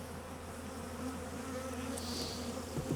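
Honey bees buzz steadily around an open hive during an inspection, with nucs nearby for shaken bees; a dense, continuous drone holds throughout, with individual bees swelling louder as they pass close.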